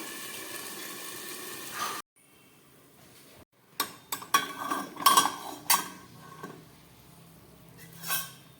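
A lid goes onto a cooking pan with a fish-head pumpkin ghyat on a stove, giving several sharp metallic clinks and knocks in quick succession after a short hush, close and clear.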